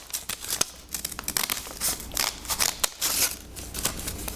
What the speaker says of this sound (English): we're going to use our scissors to cut all the way to the point